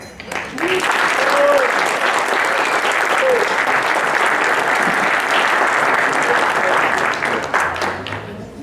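Audience applause at a chiropractic congress presentation on vestibular neurology, a steady dense wall of clapping that holds for the whole stretch before tapering at the end.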